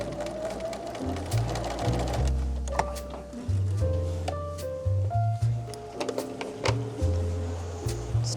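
A sewing machine stitches a quilt with a fresh sharp needle, its motor running in steady rhythmic bursts with short pauses, close and fairly loud, with light clicks and rattles over the hum.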